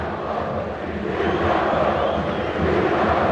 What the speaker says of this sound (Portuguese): E a torcida do Grêmio incentiva o Diego.